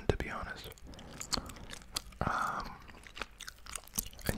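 Gum chewed right up against the microphone in an ASMR ramble, giving moist, sticky smacks and soft clicks in an irregular rhythm, with quiet breathy sounds between the chews.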